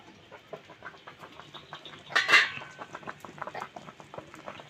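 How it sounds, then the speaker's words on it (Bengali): A lid is lifted off a pot of steamed bhetki fish bati bhapa, giving one bright, short metallic clatter partway through. Faint, steady ticking and clucking-like chatter run in the background. "হয়ে গেছে, এখন ঢাকনাটা খুলবো।"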